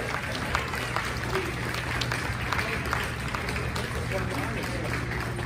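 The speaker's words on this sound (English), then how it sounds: "would you give another big round of applause?" Audience applause at the 2021 Midwest All Music Association Hall of Fame induction ceremony, a steady wash of clapping from a crowd that fills the whole stretch at moderate level, with a low hum beneath.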